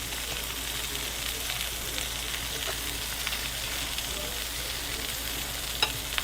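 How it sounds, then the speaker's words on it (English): Steady, dense sizzling of food frying in a hot pan, a continuous crackle with occasional louder pops and no voices. "Why can I only hear sizzling?"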